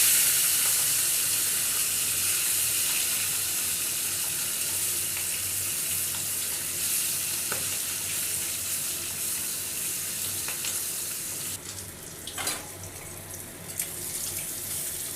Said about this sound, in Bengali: আমার তেলটা গরম হয়ে গেছে, একে একে মাছগুলো দিয়ে দিচ্ছি।